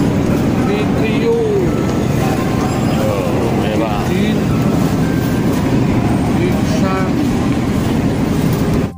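A train locomotive runs close by, a continuous rumbling roar with rail clatter, while people talk over it throughout.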